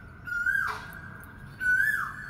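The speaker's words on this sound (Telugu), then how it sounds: "కోయిల సౌండ్ కూడా చూడండి," A koel calls outdoors near a balcony: two clear, rising whistled notes about a second apart, fairly loud, over a faint background hum with no talking.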